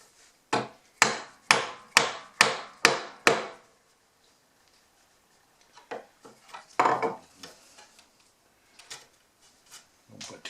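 A chisel struck with a mallet while hand-cutting a mortise in wood for a cabinet face frame, six sharp evenly spaced knocks close by, followed by quieter scattered taps and scraping as the waste is cleared.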